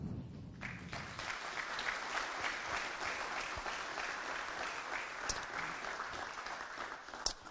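Steady applause from a conference audience at a LibreOffice project meeting, a soft, distant wash of many hands clapping that continues for several seconds without talk.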